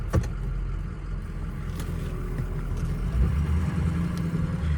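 A 2004 Ford F350 Powerstroke crew cab long bed truck driving, its diesel engine giving a steady low drone heard from inside the cab, with a faint click near the start.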